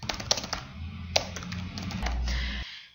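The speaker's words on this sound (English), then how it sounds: "it's simply a case of typing in a treatment note" Keystrokes on a computer keyboard as a treatment note is typed, irregular close clicks with a few sharper taps, over a steady low hum.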